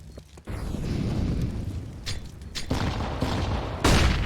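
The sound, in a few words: grenade explosions in an esports video game match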